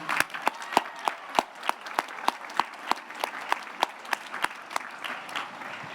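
A graduation ceremony audience for the Union High School Class of 2021 applauds its student speakers and performers; sharp individual claps ring out in a steady, fairly sparse rhythm over a soft bed of wider clapping for about six seconds.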